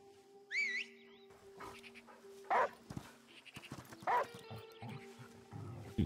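A dog in the video game Last Day of June gives a few short barks amid whistles, game music and scattered effects, at moderate loudness with no speech.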